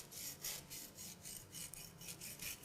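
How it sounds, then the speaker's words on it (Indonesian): A serrated knife saws through a butter cake in rhythmic back-and-forth rasping strokes, about ten quick scrapes, soft and close with no talk. "Kita potong perlahan dengan menggunakan pisau yang tajam dan pisau gergaji."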